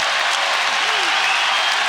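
A college wrestling crowd at a 2018 Big Ten match between Ohio State and Penn State applauds and cheers in a loud, dense, continuous roar with no break.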